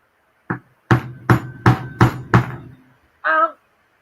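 A hammer strikes a lock in six sharp, close blows at a fairly even rhythm, followed after a pause by a short voiced cry.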